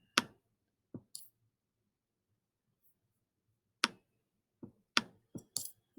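Computer mouse clicking at a desk: sparse, sharp, close clicks, a single one and then a quick cluster of several, with silence between.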